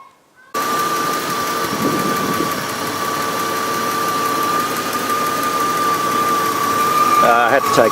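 A Ford EF car engine, newly fitted with a replacement head and head gasket and refilled with coolant, cranks and catches, then settles into a loud, steady idle with a faint tapping that continues for several seconds.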